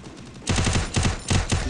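Automatic gunfire from the video game Free Fire comes in three quick bursts of rapid, punchy shots with short gaps between them, loud and up front.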